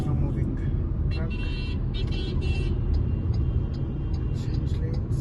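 A constant low road rumble and engine drone fill a car interior as the vehicle accelerates on an Indian highway under adaptive cruise control, with brief higher tonal sounds drifting in and out of the steady noise.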